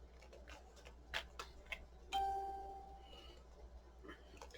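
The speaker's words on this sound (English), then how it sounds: "I put my phone on silent, and it does not like to be on silent apparently because it's still dinging and chiming." A phone set to silent still sounds a notification chime, a single clear ding with a ringing tail, standing out over quiet room noise and a few soft taps at a crafting table.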